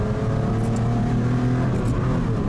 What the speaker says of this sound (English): We're doing a 3rd gear pull, the foot is flat to the floor